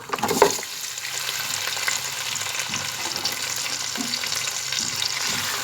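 Half a kilo of bone-in beef sizzles and fries steadily in a hot pan, with a brief louder burst as the meat goes in and occasional stirring scrapes, no voices.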